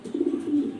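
A black imported Danish male pigeon coos close by, a short throaty rolling coo with a few pulsing beats, loud and alone.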